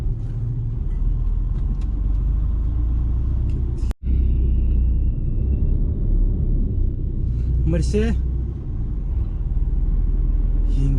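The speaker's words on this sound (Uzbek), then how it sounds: "yengil mashinalar bilan sig'isha olmayapmiz, lekin ketyapmiz hozircha" Low continuous rumble from inside a car driving in traffic toward the Mont Blanc tunnel on the Italy–France route, steady and close, with a brief cutout midway and people talking over it.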